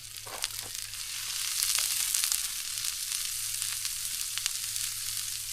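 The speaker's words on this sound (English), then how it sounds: "Onions on the coals." Onions sizzling and frying over hot coals outdoors at a boat ramp, a steady broad crackle with scattered pops running throughout, fairly close and with no talk.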